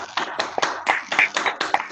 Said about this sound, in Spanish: Podemos sacar los micrófonos y aplaudir.